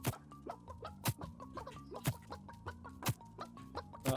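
Chickens cluck in the Realm Royale video game, a steady run of short clucking calls over a rhythmic music backing with periodic loud beats, fairly quiet overall.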